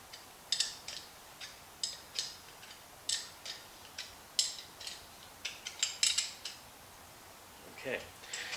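A tool is tightened onto a front brake line fitting on a rat rod, giving a series of light, sharp metallic clicks and ticks at an irregular pace, close and fairly faint.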